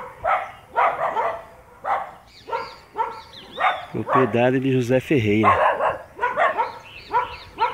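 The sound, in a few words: dogs barking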